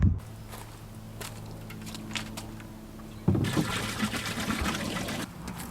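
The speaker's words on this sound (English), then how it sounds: "I'm also going to empty out the toilet." Water sloshes and pours while a campervan toilet is emptied outdoors, with soft shuffling steps and handling noises, then a louder gushing pour for a couple of seconds before it eases off.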